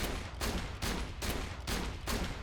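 Hyperion shotguns from the video game Borderlands The Pre-Sequel fire about five times in quick, evenly spaced blasts, each loud, booming and close, with no talk.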